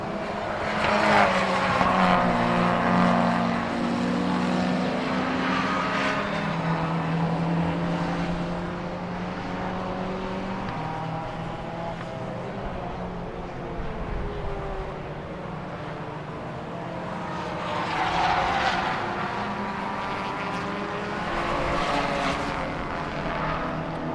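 Race cars lapping Silverstone during a Goodyear Britcar Endurance Championship Trophy class race, a continuous loud engine roar with cars swelling and fading as they pass, no voices.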